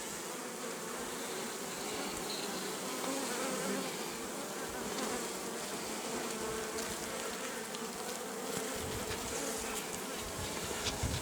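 A honeybee swarm with young queens roars through a dense, steady buzzing during autumn swarming, many bees close by and continuous throughout with no talk.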